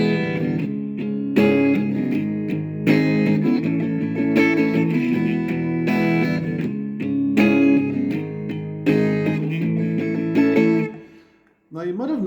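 An electric guitar strums barre chords for a song in a steady, full-sounding progression, with chord changes every couple of seconds, loud and close, and a brief pause near the end.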